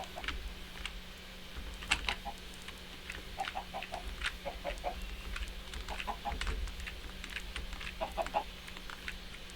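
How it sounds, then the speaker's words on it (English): Penned chickens in a video game base let out scattered short clucks, faint and quiet. They repeat irregularly over a low background hum, with light clicking throughout. "I have managed to pen some chickens and some sheep."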